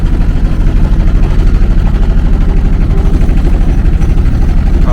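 A boat's engine runs loud and close on a river outing in Netrokona, Mymensingh, Bangladesh, giving a continuous rapid pulsing drone that stays steady throughout.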